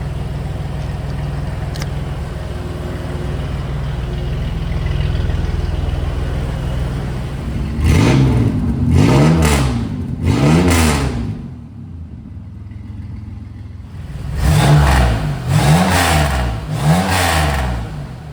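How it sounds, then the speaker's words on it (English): A 2000 Chevy Camaro six-cylinder engine with a repaired exhaust and new tailpipe idles with a raspy tone, then revs sharply in three quick bursts, drops back briefly, and revs three more times. It is close and loud, with no voices. "So that's a weird raspy 6-cylinder sound"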